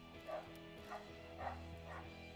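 A female pet dog yaps four times at an even pace, soft and far off, over a continuous low electronic hum.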